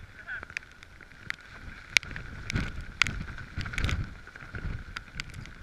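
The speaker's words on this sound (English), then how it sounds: "windy one moment, then it's not windy." Gusty wind on the Helvellyn mountain buffets the microphone in low rumbling bursts, with scattered clicks and knocks throughout.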